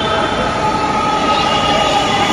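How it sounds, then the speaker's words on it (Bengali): A Dhaka metro train pulls into a station with a loud, continuous rolling rumble and a high electric whine held close and steady throughout. "আপনারা দেখতে পাচ্ছেন যে ট্রেনটি কিন্তু প্রবেশ করছে।"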